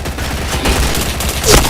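Gunfire in an online shooter game, a dense burst of shots with a sharper crack near the end, loud and continuous across the moment.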